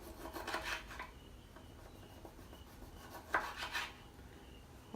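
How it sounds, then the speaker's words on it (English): A knife slicing a lemon into very thin slices on a board, quiet rasping cuts in two short bursts, one near the start and another just past the middle, close and soft with no talking. "I'm going to cut it in slices, very thin slices, just to decorate my pitcher"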